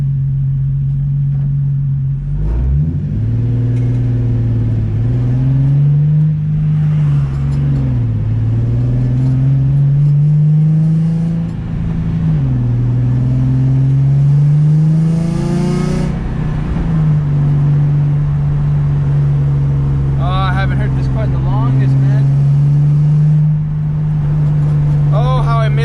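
A Nissan 350Z engine hums steadily from inside the car, its low drone rising and falling as it accelerates and shifts, with someone talking over it; the check engine light is on.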